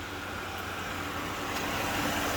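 A car engine idles under the hood of a 2006–2011 Chevrolet Impala or 2006 Malibu or Pontiac G6, a steady even rumble and hum that holds constant and fairly close, with no talking.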